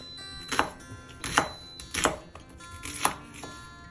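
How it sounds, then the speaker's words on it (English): Onions being chopped with a knife on a cutting board, five crisp, evenly spaced knocks of the blade against the board, close and clear with no talk. "cut up your onions"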